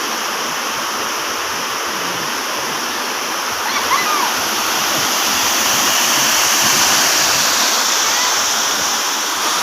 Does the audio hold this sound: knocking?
no